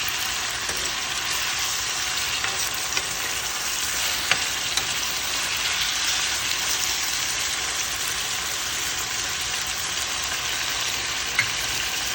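Red pepper and salt mackerel frying in a hot pan, a loud, steady, continuous sizzle with a few faint crackles, no voices.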